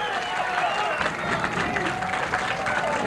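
Steady applause and crowd noise fill a 1986 professional bowling match, a dense, continuous wash of clapping with murmuring voices underneath throughout.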